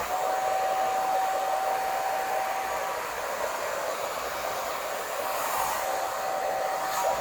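A hair dryer runs steadily on its low fan and warm heat setting, a close, even airy hiss with a faint whine that holds without pause throughout.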